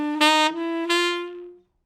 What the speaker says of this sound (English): If we go all the way up the bebop scale using this approach, it would sound like this.